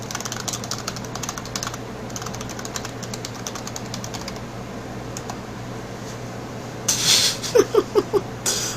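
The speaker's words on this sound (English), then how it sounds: "I'm going to type an email in chat" Quiet, steady typing on a computer keyboard, with rapid light key clicks running throughout and a few louder, distinct taps near the end, set against a faint constant hum.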